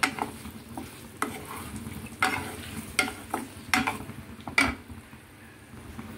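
Paneer cubes browning in butter in a pan sizzle softly beneath a series of distinct scrapes and knocks of a spatula against the metal, spaced irregularly about once a second, with no talking.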